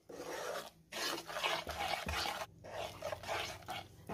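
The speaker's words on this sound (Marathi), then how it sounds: "पीठ भाजत आलेलं आहे" Wheat flour roasting in ghee in a pan while dry fruits are roasted along with it, a close, steady scraping and rasping stirred in several bursts with short pauses between strokes.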